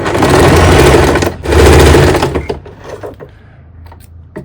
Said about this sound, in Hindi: नेक को पलटने के बाद अब इसके कॉर्नर पर एक सिलाई और लगाएंगे।